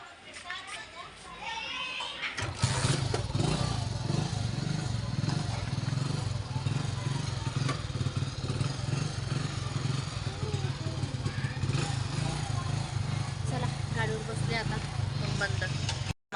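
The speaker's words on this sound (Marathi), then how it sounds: "चला तर आता जाऊ आपण मासे आणायला चाललं टू व्हीलरवर" A two-wheeler motor scooter runs on a ride to buy fish, its steady engine drone and road rumble close and continuous after starting up, with voices and children's talk over it.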